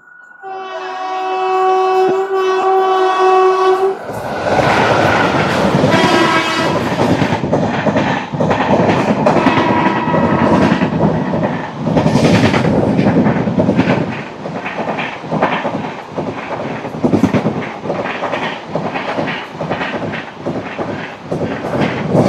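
A long, loud multi-tone horn blares from the 12731 Tirupati–Secunderabad superfast express, which then roars past close by with heavy rushing rumble and rhythmic clickety-clack of wheels over rail joints.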